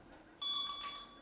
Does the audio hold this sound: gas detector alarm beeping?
yes